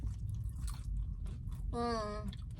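Close, crunchy chewing of a Pizza Hut hot honey pizza topped with crispy pepperoni, steady bites and mastication over low background noise, with a short tonal voiced sound near the end.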